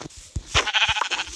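A sheep bleats in a video game, a close, wavering bleat that rises loud and trails off, heard alone.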